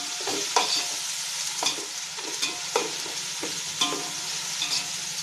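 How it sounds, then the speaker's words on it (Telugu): Ginger paste being stirred into hot oil while frying for a chicken pulav, a steady close sizzle broken by repeated scraping strokes of the spoon about once a second. "కొంచెం అల్లం పేస్ట్ వేద్దామండి."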